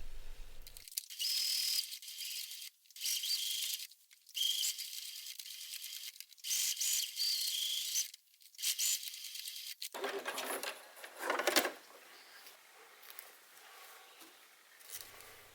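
A sewing machine stitches the crotch seam of a pair of summer shorts, running in several bursts of steady whirring with short pauses between, close and fairly loud with no talking.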